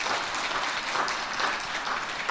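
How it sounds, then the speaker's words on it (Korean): A crowd applauds at a children's Christmas celebration service in a church, steady and dense clapping that fills the room without pause. "큰 박수 부탁드립니다"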